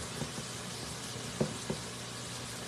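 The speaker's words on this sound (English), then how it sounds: "We got all kinds of roaring and frying and sizzling." Chicken livers frying in a pan give a steady, soft, fizzing sizzle close by, broken by two or three brief clinks or stirring taps.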